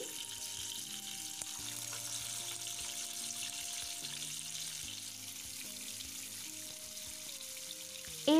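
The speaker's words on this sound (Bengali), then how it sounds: "এখন আমি ভেজে নেব আমি এখানে পর্যাপ্ত পরিমাণে তেল নিয়ে নিয়েছি ইলিশ পোস্ত করার জন্য আমি একে একে মাছগুলো দিয়ে দিচ্ছি" Hilsa fish pieces frying in oil for posto ilish, a steady, even sizzle with soft melodic background music throughout and no talking.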